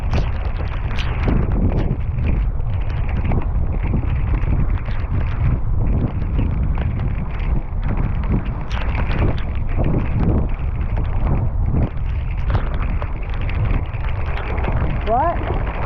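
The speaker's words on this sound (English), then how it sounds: "We're going to paddle through these waves." A kayak is paddled through the river waves at Rocky Island in Mather Gorge, with continuous rushing water and heavy wind buffeting the microphone, plus scattered splashes throughout.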